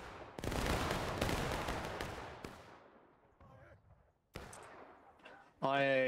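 Musket battalion volley in a Civil War game at Antietam's Sunken Lane: one sharp, loud crash of massed gunfire that rolls and fades over a few seconds, followed by a few scattered distant shots and a shouted voice at the end.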